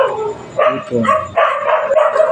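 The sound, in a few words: dogs barking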